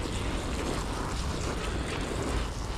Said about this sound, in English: So I'm gonna wet the plastic